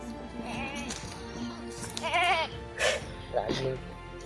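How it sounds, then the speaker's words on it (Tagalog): A goat bleats several times in short, wavering cries, close by, mixed with people talking nearby. "Ito yung kambing na ano tol."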